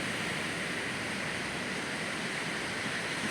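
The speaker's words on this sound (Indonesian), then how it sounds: "Nice, ombaknya bagus sekali." Surf rolls in continuously at Kuta Beach in Bali, a broad, even wash of breaking ocean waves heard from nearby without pauses or voices.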